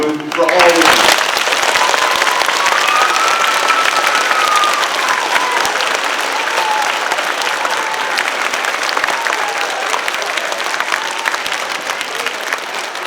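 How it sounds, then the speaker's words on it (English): Sustained applause fills an elementary school assembly at a teacher of the year ceremony, a dense, loud wash of many hands clapping that fades slowly, with a faint voice briefly audible through it. "I want you to give a big round of applause"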